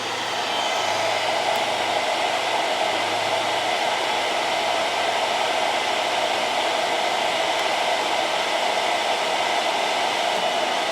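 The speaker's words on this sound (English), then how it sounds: "Right now I'm using 624 watts from that blow dryer" A blow dryer hums and roars continuously, a steady broadband whoosh drawing about 624 watts from an Anker Solix F3800 Plus power station, loud and unchanging from start to finish with no talk.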